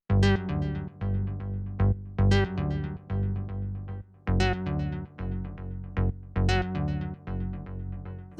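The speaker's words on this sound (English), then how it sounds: "The next thing we have here is the bass" A warped electronic bass line plays a bouncy 16th-note pattern in G, with repeating synth notes and accents around each bar, loud and continuous, with no voices.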